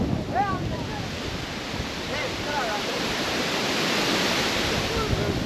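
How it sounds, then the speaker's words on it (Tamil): Strong wind gusts across a hilltop viewpoint near Kookal village in Kodaikanal, a continuous loud roar buffeting the microphone, with a few faint bird calls in the background. "இடத்துல காற்றோட வேகம் வந்து ரொம்ப அதிகமா இருக்கு"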